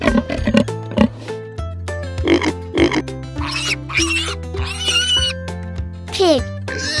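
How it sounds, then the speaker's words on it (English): A pig oinks in a series of short grunts and squeals over a steady musical backing, with a voice naming the animal between the calls. "Pig."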